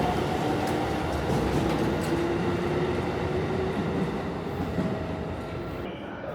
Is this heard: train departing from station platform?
yes